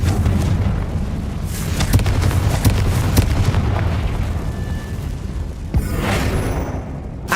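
Fiery Confringo spell explosions in Hogwarts Legacy, loud booming blasts with sharp pops repeating in quick succession, ending with a rushing burst near the close.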